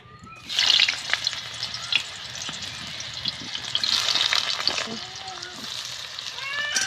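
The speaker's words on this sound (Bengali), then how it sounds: "তেল গরম হয়ে গেছে, এখন আমি এসর ভেজে নিচ্ছি।" Pieces of young jackfruit fry in hot oil in a kadai, producing a continuous crackling sizzle that swells and eases over several seconds.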